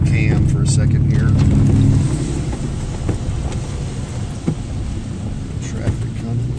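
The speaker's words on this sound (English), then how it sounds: "Traffic coming." Road traffic passing near a flooded creek bank during a storm, a loud broad rush of a vehicle going by early on that fades into steady wet road and rain noise, with a person talking over it.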